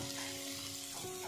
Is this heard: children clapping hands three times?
no